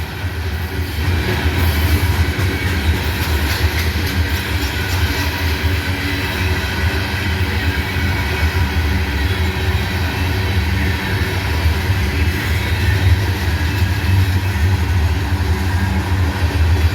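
A CSX freight train rolls past near Abbeville, a steady loud rumble with rail clatter holding for the whole stretch, close and unbroken.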